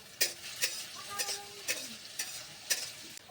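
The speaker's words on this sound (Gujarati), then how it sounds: "આપણે હલાવ્યા રાખશું એટલે દાજી ન જાય એટલા માટે।" Potatoes frying in oil under a low sizzle, punctuated by regular scraping strokes of a spatula about twice a second, close and distinct.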